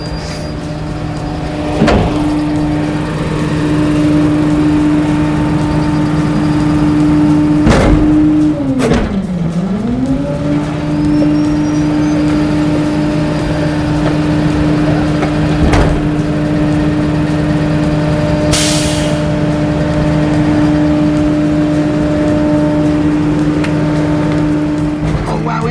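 A garbage truck's engine runs steadily with its hydraulics working, a sustained mechanical drone and whine that dips and recovers in pitch partway through, with a few sharp clanks over the top.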